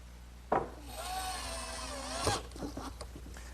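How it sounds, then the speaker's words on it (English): A bandsaw cuts wooden brackets for an Adirondack chair, with a sharp knock followed by a short, steady whining cut of under two seconds and a brief scrape at the end, heard up close. "cut them on the bandsaw, and then smooth out the edges with my drum sander"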